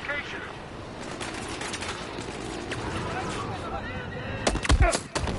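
Incoming gunfire striking the player in a World War II shooter game, a dense rattle of shots and machine-gun bursts under a talking voice, ending in a cluster of loud close cracks.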